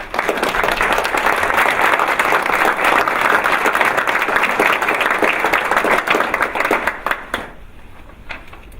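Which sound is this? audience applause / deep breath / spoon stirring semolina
audience applause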